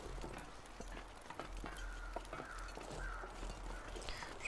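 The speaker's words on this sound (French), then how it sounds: "J'entends des corbeaux." Crows caw a few times in the wilderness of the survival video game The Long Dark, mid-distance over ambient wind, with scattered footstep-like thumps beneath.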